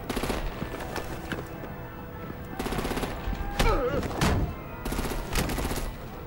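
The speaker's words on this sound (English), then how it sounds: "Break out the artillery and disable their vehicles!" Gunfire erupts in a Batman: The Enemy Within battle scene, with several loud bursts of rapid automatic shots and sharp reports separated by quieter stretches, close and intense, with some voices mixed in.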